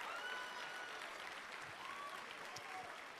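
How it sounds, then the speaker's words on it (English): Applause for the dramatic duet acting finalists at a state speech individual events final, a steady, fairly faint wash of clapping from a large audience that continues for the whole stretch. "Let's give them another round of applause."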